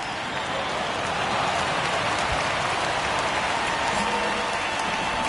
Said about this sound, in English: I don't know how much more rain this field can take.